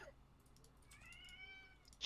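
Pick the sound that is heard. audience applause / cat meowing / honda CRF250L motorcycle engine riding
cat meowing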